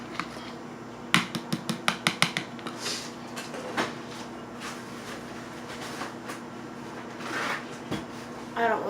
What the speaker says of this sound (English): So yeah, stir it up.